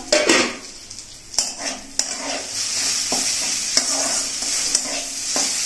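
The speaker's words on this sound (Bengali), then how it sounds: "সামান্য একটু নাড়াচাড়া করব" Bitter cumin leaves and potatoes stirred in a frying pan, with a steady sizzle underneath and repeated scraping and clinking of a spatula against the pan, close and fairly loud, no voices.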